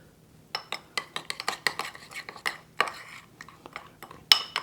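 A utensil clinks and scrapes rhythmically against a bowl as shrimp cutlet mixture is stirred with black pepper and salt, a quick close series of taps and clatters.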